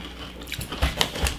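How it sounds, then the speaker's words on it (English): Crunchy Lorenz paprika kettle-cooked potato chips bitten and chewed up close, several crisp, brittle crunches in quick succession with no talking. "but they're the crunchy chips"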